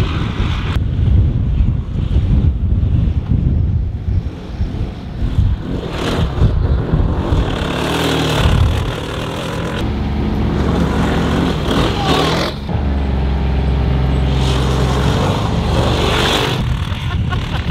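A car on the move, with heavy wind buffeting the microphone and a low engine rumble underneath, loud and blustery throughout, with a few brief voices breaking through.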